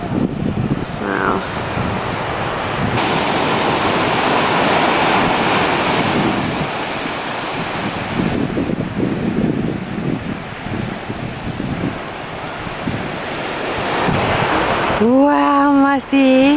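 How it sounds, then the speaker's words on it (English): Surf rolls and crashes in a steady wash of noise at the Newport rock pools, carried on gusty wind, with short bits of voices breaking through the roar. "Look at the surf"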